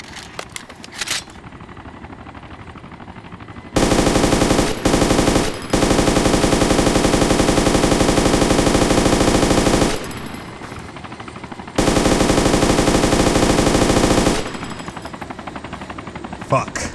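Machine gun fire in Arma 2 DayZ: two long, loud sustained bursts of rapid automatic gunfire, broken by brief pauses and quieter background stretches.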